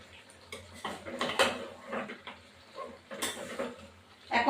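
Garam masala powder is stirred into a cooking pot, giving faint, irregular scraping and clinking of a utensil against the pot in quiet bursts.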